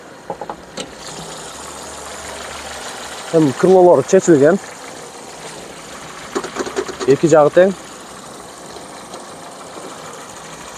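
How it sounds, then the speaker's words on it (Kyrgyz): A Honda Fit engine idles with a low, even hum under the open hood, steady throughout while someone talks over it in short bursts. "Мотор ровно иштеп турат"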